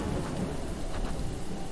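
Steady heavy rain pours in a video game scene, with a low thunder rumble rolling underneath, dense and continuous without any voices.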